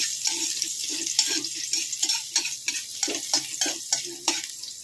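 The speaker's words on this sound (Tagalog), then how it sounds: "Magigisa naman tayo ng panlumpia natin." Bean sprout lumpia filling being sautéed in a pan, a continuous bright sizzle broken by rhythmic scraping and tossing strokes of a utensil, close up and without any talk.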